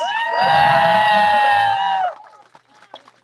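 A crowd at a race finish cheers and whoops loudly with high-pitched shouts for about two seconds, then it drops off to scattered faint noise.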